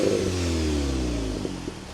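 A 2024 Volkswagen Golf GTI with a six-speed manual settles into idle after starting up, a steady close engine drone that eases slightly lower, with no talking.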